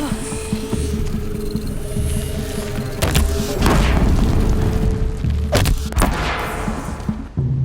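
A bomb explodes in the video game Horizon Zero Dawn, with a couple of sharp booming bursts over a steady background of insect-like chirping and low ambient hum, followed by further thuds and crackles.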